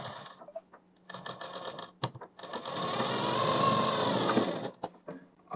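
A sewing machine stitches a kurti in short bursts of rapid mechanical whirring, then runs one longer, steady, louder stretch before stopping with a few brief clicks.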